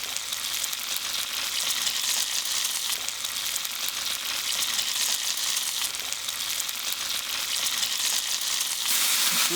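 Pounded ginger and garlic hitting hot oil in a pan for fish curry: a loud, bright, continuous sizzle holds steady, close and without talk.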